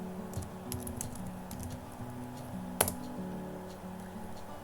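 Typing on a computer keyboard, scattered light key clicks in short bursts with one sharper, louder keystroke near the middle, heard close and alone without speech.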